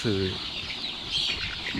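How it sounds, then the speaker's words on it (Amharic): Chickens in a henhouse at night, waiting to be vaccinated, give a short cluck at the start and another near the end, close by. Low talk can be heard in the background. "እነዚህ ዶሮች አሁን ሊከተቡ ነው።"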